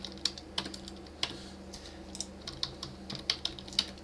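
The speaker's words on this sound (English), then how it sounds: "you just type in all the information here" Typing on a computer keyboard while entering information into an admin form, with sparse, soft key clicks in an uneven rhythm, fairly close and quiet over a faint steady hum.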